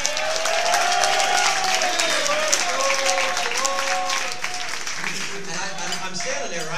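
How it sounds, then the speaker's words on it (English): Audience at a Hard Rock Cafe soccer event applauding a player, steady dense clapping with cheering voices and calls rising over it, then tapering. "give him an applause, please."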